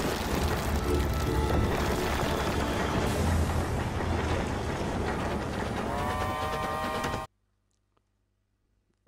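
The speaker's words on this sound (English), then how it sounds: "The train. Here comes the choo-choo." A train rolling into a station in the video game Epic Mickey 2: The Power of Two, a loud continuous rumble and clatter with rising metallic squeals before cutting to near silence.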